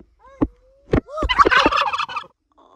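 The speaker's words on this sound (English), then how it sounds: "Oh my god, there's turkeys." Wild turkeys gobble outdoors, with a couple of short clucks and then a bubbling, rattling gobble call at moderate distance, followed by a faint quieter one.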